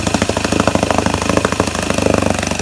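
A 1964 Wards Sea King 3 hp outboard motor, warmed up after repair, idles with a steady rapid knocking putter, loud and close, with no talk over it.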